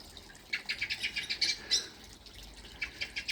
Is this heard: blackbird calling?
yes